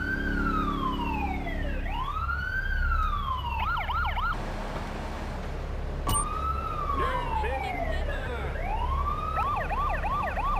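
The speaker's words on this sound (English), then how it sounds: "even changing the old siren sounds of these vehicles" A video game police car siren wails in repeated rising and falling sweeps, then breaks into quick yelp bursts, cutting off briefly before starting the same wail-then-yelp cycle again, loud and close.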